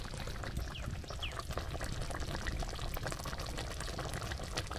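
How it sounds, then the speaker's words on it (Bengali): Lemon juice poured into a pot of tomato chutney, a steady soft liquid trickle over a dense background hiss, close and continuous with no talking. "একটু লেবুর রস দিয়ে দেব"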